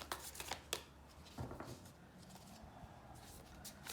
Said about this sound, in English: Last shuffle that I take from the middle.